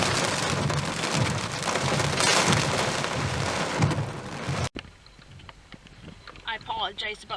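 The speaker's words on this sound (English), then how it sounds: "I apologize about the wipers going" Rain pours on a car during a thunderstorm, a loud steady hiss that cuts off sharply partway through, followed by quieter patter with wipers and someone talking.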